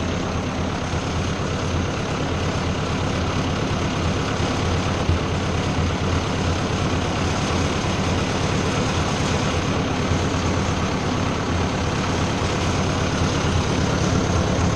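An old tractor engine with a carburetor and sediment bowl runs on its remaining fuel, a steady, loud, low idling drone that holds unchanged throughout with no voices.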